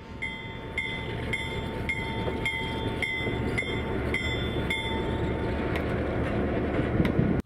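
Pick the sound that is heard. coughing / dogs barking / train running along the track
train running along the track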